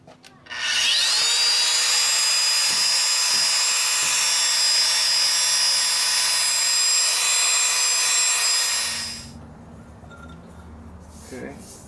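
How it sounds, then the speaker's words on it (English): Stoneware ceramic is polished with a 100 grit pad on a power polisher, a loud, steady high whine with grinding rub that runs for about eight seconds, then spins down to quiet, with faint clinks afterward. "now I will go to stage 2, which is an approximately 100 grit pad"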